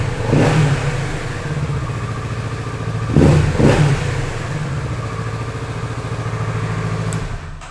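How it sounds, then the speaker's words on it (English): A Kawasaki Z650 RS with a parallel-twin engine rumbles loudly and steadily at close range, with two sharp throttle blips about halfway through before it settles back to a continuous idle. "It sounds very rumbling. You can feel the engine power."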